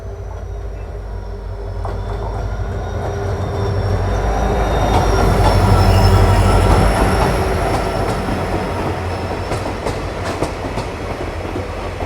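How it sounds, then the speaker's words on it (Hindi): The Tutari Express, running between Dadar and Sawantwadi Road, rolls past in heavy rain as a deep rumble swells and fades, with clattering wheels and thin, sustained wheel squeals riding over it. "दादर से सावंतवाड़ी रोड के बीच चलने वाली टूटारी एक्सप्रेस ट्रेन"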